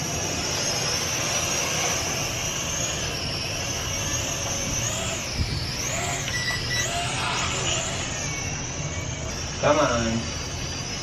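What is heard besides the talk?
Arris foldable drone taking off and flying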